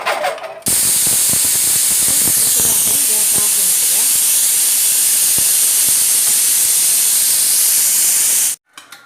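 A pressure cooker cooking field beans (avare) for a traditional Tulu gravy lets off a loud, steady rush of hissing steam for about eight seconds, then stops abruptly. Faint kitchen clatter sounds just before the hiss.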